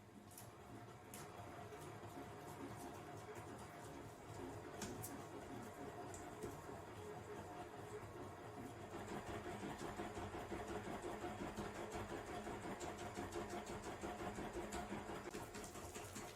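A stand mixer kneads stiff bread dough for artisan rolls at a higher speed, a steady motor drone with rhythmic clunking that grows slightly louder partway through.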